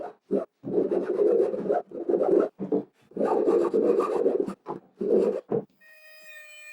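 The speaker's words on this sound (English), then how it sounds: "Then I cleaned up the inside edges of the handle with a rounded file." A rounded file rasps along the inside edges of a wooden handle in repeated strokes of scraping, some short and some longer, close and clear, ending with a faint high tone.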